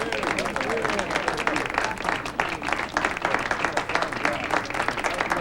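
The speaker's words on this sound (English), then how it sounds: "let's have a big round of applause for Father O'Brien and his most worthy cause" Audience applause at a charity auction gathering honoring Father O'Brien, sustained dense clapping from a crowd filling the room, loud and steady with speech mingled in.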